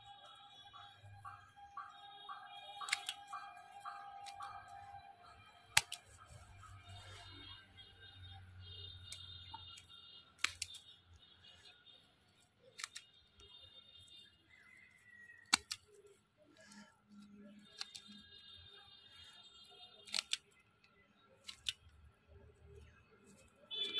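Pruning shears cut bougainvillea branches, producing several sharp, well-spaced snips and clicks against a quiet garden background with faint tonal chirps.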